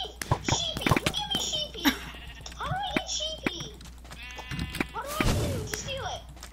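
Sheep bleating in a Minecraft game on the Mineplex server, several short wavering bleats scattered among excited children's voices talking over the game audio.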